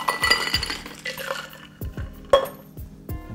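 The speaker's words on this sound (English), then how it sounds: "I pour it into a rocks glass" Cocktail poured from a shaker into a rocks glass, with bright clinks of glass and ice and a few sharp knocks, close and fairly clear, amid a soft liquid trickle.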